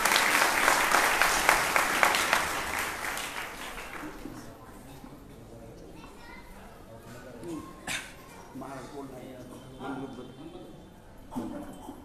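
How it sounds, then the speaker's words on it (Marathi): Loud crowd applause at a religious gathering honouring gurus at Sonpeth math in Parbhani district, clapping filling the first four seconds before fading into murmurs, scattered noises and a few isolated claps. "जोरात टाळ्या वाजवा."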